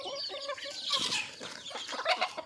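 Crossbred backyard chickens, yellow SevenDoY-cross birds, cluck in a steady busy chatter of overlapping calls, close and moderately loud, with no one talking.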